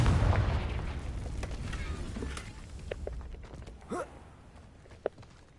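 Confringo spell blast in Hogwarts Legacy, a loud booming explosion at the start that rumbles and fades, followed by scattered small pops and footsteps-like thuds.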